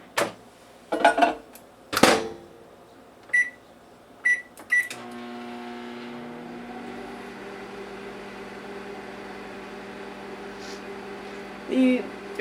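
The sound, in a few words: microwave oven heating marshmallows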